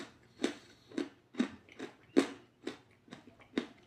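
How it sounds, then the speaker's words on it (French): Crisp, crunchy chewing of Asian candy close up, about eight sharp bites in a steady rhythm, with no talking. "Vous entendez comment ça croque?"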